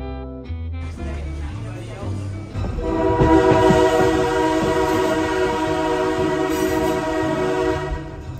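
A Wilmington and Western Railroad heritage train runs loud and close with a steady rumble, its horn sounding in long sustained blasts that swell partway through and carry on over the rolling noise.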